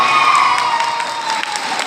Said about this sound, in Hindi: रोहित सर के सम्मान में अब तक की सबसे जोरदार ताली होनी चाहिए